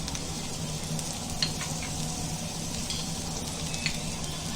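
Ginger and garlic crushed in a mortar and pestle hit a spoonful of hot oil, giving a steady, moderate sizzle with a couple of faint clicks over a low background hum.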